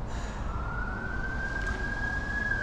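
An ambulance siren on a public road holds a rising, then steady wailing tone over heavy low traffic rumble, with no talk heard.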